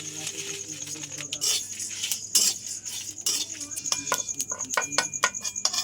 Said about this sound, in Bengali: একটু ভাজা মশলা বানিয়ে নেবো। 4টে শুকনো লঙ্কা দিয়ে দিলাম, গোটা ধনে দিয়ে দিলাম, গোলমরিচ দিয়ে দিলাম, গোটা জিরে দিয়ে দিলাম।